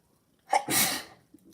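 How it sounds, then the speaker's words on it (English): A single sharp sneeze, close and sudden, with a quick intake of breath just before it, then quiet. "I'm going to sneeze."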